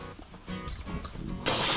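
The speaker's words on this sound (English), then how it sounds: "A couple blasts of brake cleaner to dislodge whatever had been clinging to the bottom there" Brake cleaner sprayed onto an old axle: after some faint handling noises, a sudden loud, sharp aerosol hiss bursts in near the end and continues to the close.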